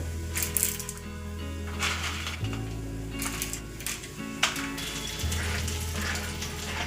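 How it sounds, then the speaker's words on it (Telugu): Dried red chillies, cumin and chana dal frying in hot oil for ginger pickle, a moderate sizzle with scattered crackles and small metallic clinks over a low steady hum, no voices. "ఆయిల్ అనేది హీట్ అయ్యిందండి ఇదిగోండి నేను ఒక నాలుగు ఎండుమిర్చి తీసుకున్నాను అవి అయితే వేసేసుకుంటున్నాను"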